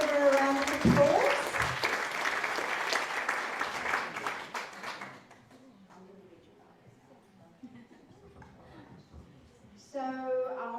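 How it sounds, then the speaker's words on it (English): Audience applause for a councillor at an International Women's Day event: steady crowd clapping for about five seconds, then fading to quiet room noise before a voice begins speaking. "Please give her a round of applause."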